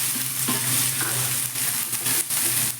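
Onion, green chili and curry leaves sauté in a pan with a loud, continuous sizzle close up, broken by a few sharper stirring scrapes and clatters; no voices.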